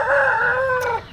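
A gamefowl broodcock crows once, a clear, close, sustained call lasting about a second that trails off at the end, with no speech over it.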